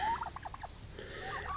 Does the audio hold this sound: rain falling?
no